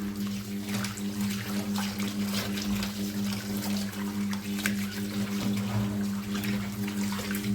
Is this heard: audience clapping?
no